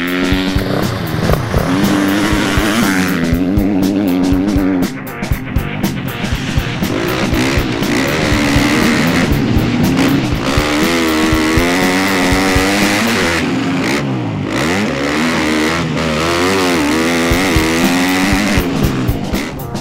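A 2013 KTM SX-F motocross bike is ridden hard, its engine loud and close, revving up and down repeatedly through gear changes with rising and falling pitch and no talk.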